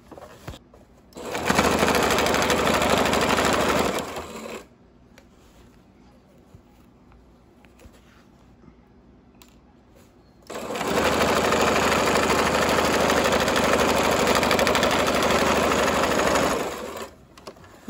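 A sewing machine runs in two long, steady bursts while stitching pockets onto a pair of shorts, loud and close with a constant whirring hum, separated by a quiet pause.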